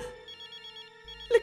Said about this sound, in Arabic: لك هذا صوت موبايل؟